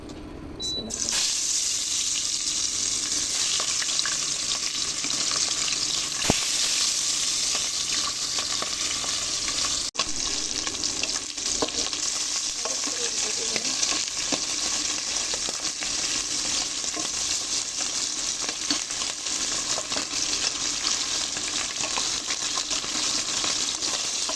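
Spices hit hot oil in a pan for a fish curry with tomato, a steady loud sizzle and crackle lasting throughout with occasional stirring clinks, close up and mostly alone.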